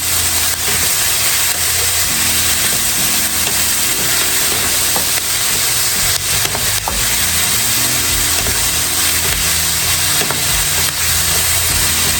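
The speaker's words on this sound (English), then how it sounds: "we're going to cook these onions down" Onions cook down in a pan for smothered short ribs, giving a loud, close, continuous sizzle and hiss with occasional stirring clinks and scrapes.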